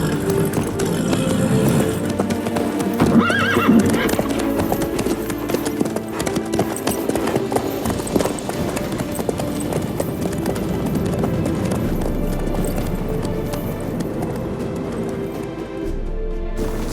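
Steady hoof clip-clop from a horse ridden in The Witcher 3, loud and continuous over a dense game soundtrack, with a brief stretch of voices partway through.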